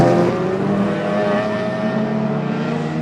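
Stock cars at a Border Stockcars race meeting roar past on the track, a loud continuous engine drone with layered revving tones from several cars close together, no gaps.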